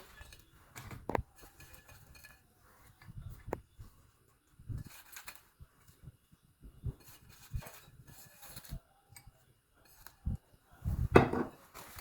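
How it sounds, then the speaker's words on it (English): Dishes and cutlery clink and knock as food is plated into a bowl, with sparse, quiet taps and scrapes and a few sharper clatters near the end. "Now we'll be plating to our bowl."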